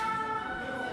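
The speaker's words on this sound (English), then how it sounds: "Oh no, that's an ambulance." An ambulance siren drones steadily on a Paris street, moderately loud and continuous, with no voices over it.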